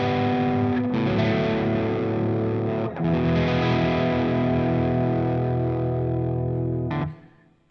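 A Gibson Les Paul electric guitar played with heavy distortion, sustained ringing chords struck a few times with clear string definition, loud and close, fading out at the end.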